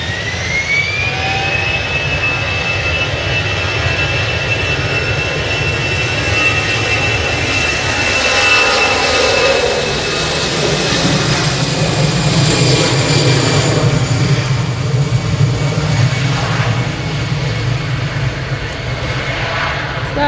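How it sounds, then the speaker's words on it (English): An EasyJet Airbus A320 takes off for Paris from Manchester Airport, a loud, close jet roar with a rising engine whine that swells and then slowly fades as the aircraft climbs away. "That is an EasyJet A320 off to Paris."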